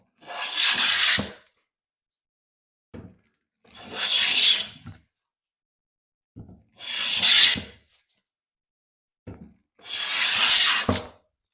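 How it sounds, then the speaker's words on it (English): A hand plane shaves pine wood in four long rasping strokes, each a close, loud scraping swipe, with short light knocks in the pauses between passes. "working pine, you can really take some shavings off"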